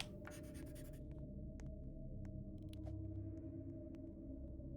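In the Roblox game Megan Story, a drawing sound scratches faintly and intermittently over a constant low hum, with a few soft clicks.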